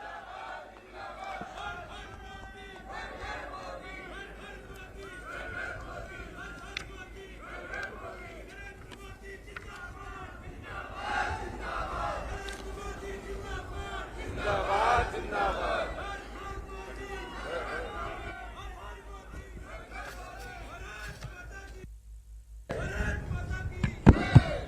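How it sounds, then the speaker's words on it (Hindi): A large crowd at Kedarnath Dham cheers and shouts for Prime Minister Narendra Modi, a loud, sustained roar of voices and clapping that builds toward the end, with an announcer's voice over the crowd. "एक बार जोरदार तालियां नरेंद्र मोदी जी के लिए."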